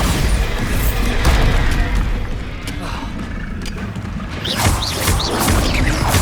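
Blasting spell explosions and combat effects from Hogwarts Legacy on PlayStation 5 fill a dense, loud, continuous barrage of booms and crashes with layered impacts throughout.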